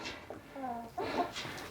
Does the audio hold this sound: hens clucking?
yes